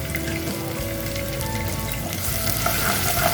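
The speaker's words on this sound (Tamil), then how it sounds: "நம்ம இடித்து வச்ச சின்ன வெங்காயம், பூண்டு, அப்புறம் கருவேப்பிலை சரிங்களா போட்டு இந்த எண்ணெயில் நல்லா ஒரு மிக்ஸ் கொடுத்துக்கோங்க" Crushed small onions, garlic and curry leaves fry in hot oil for a dry fish curry, a close, steady sizzle and crackle growing slightly louder as they are stirred.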